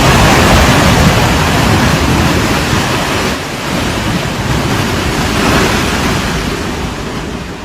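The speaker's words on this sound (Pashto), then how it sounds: "په دریای چترال کې د غټې درجې سیلاب" Heavy flood waters of the swollen Chitral river in Khyber Pakhtunkhwa after prolonged rains, a loud, continuous broadband roar of rushing water with steady intensity throughout, no voices.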